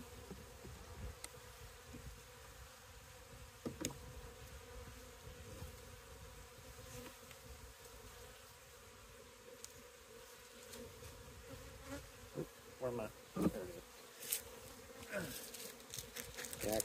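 Honey bees buzzing steadily around an opened hive during an inspection, a dense continuous drone close by with occasional louder passes and handling clicks near the end.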